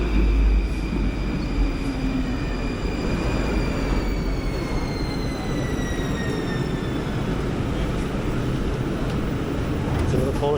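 Warsaw metro train riding in a modern, spacious carriage: a steady low rumble of the moving train fills the whole stretch, with faint whining tones gliding overhead as it runs, and no talk.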